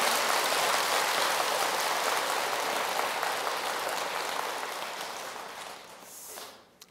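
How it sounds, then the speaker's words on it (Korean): Audience applause at a Buddhist dharma talk at Jogyesa temple, a dense, steady wash of clapping that fades toward the end. "오늘 이 시간 박수 한번 올려드려야 되겠습니다"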